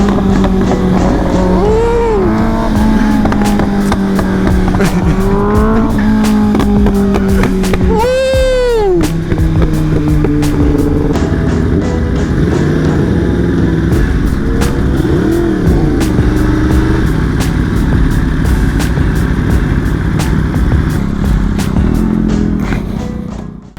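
A Yamaha R1 superbike on a group ride along highways and twisty back roads, its engine loud and close, droning steadily and sweeping up and down through revs as it accelerates and shifts, with no voices.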